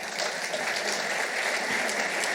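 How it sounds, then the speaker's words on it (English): An audience of seventy-year-olds applauding at a talk, a steady, dense patter of clapping held at the same level throughout the short stretch. "Those are the 70-year-olds applauding."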